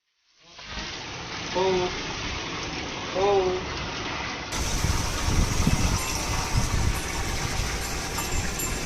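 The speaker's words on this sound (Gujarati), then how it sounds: "એક પછી એક ટોટલ 7 ગાયો નવડાવી છે" Cold water sprays and gushes steadily over cows being bathed one after another, a continuous hiss that grows louder and rougher midway, with an engine-like hum underneath and occasional voices.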